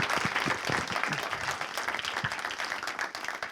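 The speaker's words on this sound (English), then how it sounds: "So could I have a quick round of applause, please, for all of the speakers." Quick round of applause for the speakers at a data science festival Q&A session, a dense, loud burst of clapping from the audience throughout.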